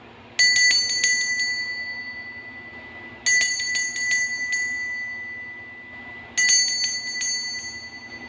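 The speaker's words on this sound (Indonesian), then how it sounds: "kita akan melanjuti dengan ditandai lonceng berbunyi." A bright metallic bell rings in three quick clustered strikes, repeated three times at even intervals, each ring fading slowly.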